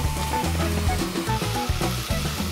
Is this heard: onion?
yes